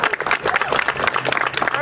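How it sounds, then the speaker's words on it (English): Brief audience applause at a community gathering, a short burst of scattered clapping mixed with crowd voices. "Please give her a round of applause."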